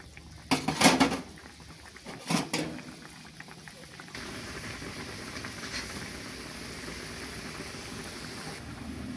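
A lid clinks down twice onto a pot of simmering country-chicken roast, the two metallic knocks followed by a steady low bubbling of the covered dish.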